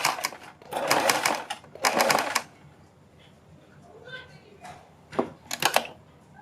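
A sewing machine stitches fabric for a kurti neckline, two loud close runs of rapid needle chatter followed by shorter quieter bursts, while someone speaks in Hindi between them.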